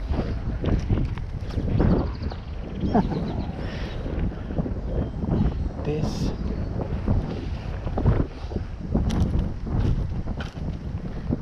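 Strong gusting wind buffets the microphone beside trout waters at Spring Hill, making a loud continuous rumble with surges throughout, and a voice briefly speaks.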